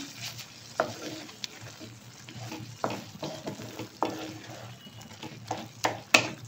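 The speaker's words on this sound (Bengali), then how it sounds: "এইবারে আমি চিজটা দিয়ে ভালো করে নেড়ে নিলাম" A spoon scrapes and taps through a sweet corn tomato pasta sauce with parmesan in a sizzling pan, irregular close stirring strokes and clinks over a soft fry, no voices.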